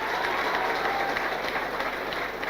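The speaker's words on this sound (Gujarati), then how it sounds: "એમની મધર માટે એક જોરદાર તાળી પાડો" An audience applauds loudly in honor of someone's mother at a public talk. Dense, continuous clapping from a crowd fills the short stretch at an even level.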